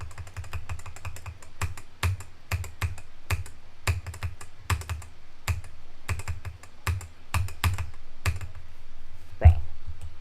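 Rapid, uneven clatter of fingers typing on a computer keyboard, close and crisp, with bursts of keystrokes and brief pauses throughout, no speech over it.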